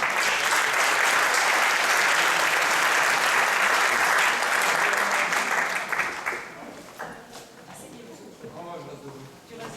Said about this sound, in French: On les applaudit très fort.